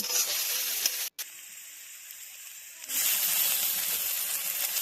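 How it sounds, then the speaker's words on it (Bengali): Chopped onion and tomato fry in a pan with a loud, broad hiss and sizzle, briefly cut off, quieter for a stretch, then surging back strongly. "কেটে রাখা পেঁয়াজ কুচি টমেটো কুচি দিয়ে হালকা করে ভেজে নেব"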